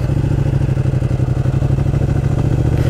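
Ducati 1299 Panigale motorcycle engine running steadily at a low, throbbing idle-like rumble, loud and close, with no talk over it.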